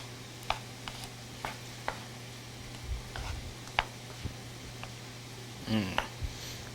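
A spoon scrapes and taps through vegetable lasagna filling in a pan, giving faint, irregular clicks and soft squishing with a low hum behind, while someone talks now and then.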